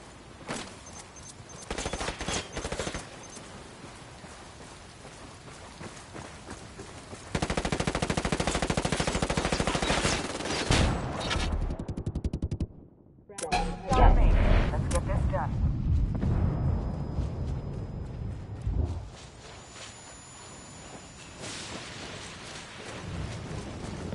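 Video game gunfire rattles in long automatic bursts, with dense sustained fire punctuated by a sharp break and heavier shots, while voices shout over the firefight.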